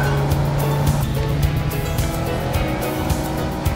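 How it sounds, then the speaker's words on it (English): A car with a 2-liter engine grinds up rocks in low gear in the Second Life virtual world, its steady low engine drone loud and continuous with a rumbling, bumpy texture throughout. "This 2-liter engine really whoops those rocks into shape."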